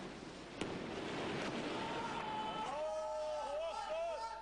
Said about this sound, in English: They run forwards to fire a rocket-propelled grenade